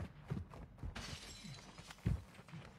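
Door smashed in during a Warzone 2.0 gulag match: a sharp shattering crash near the end, after scattered clattering impacts and rustling game noise, with no talk over it.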